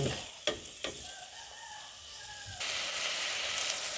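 Chicken pieces for tinola sauté in a pan with aromatics, a steady close sizzle with a few stirring knocks early on, the frying hiss suddenly growing much louder and brighter partway through as more goes into the pan.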